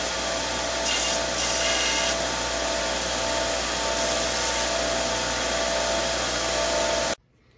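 A Dremel rotary tool whines steadily and loudly while it cuts and chamfers a small steel crank pin for a miniature steam engine. The sound holds unbroken for about seven seconds, then stops abruptly, with no talking.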